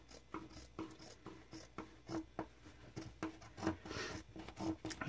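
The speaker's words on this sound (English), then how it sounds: "And I'm gonna trim the bottom." The bottom edge of a paper file folder journal is trimmed close by. Soft, quick, repeated snipping and rasping cuts come in an uneven rhythm, faint and alone.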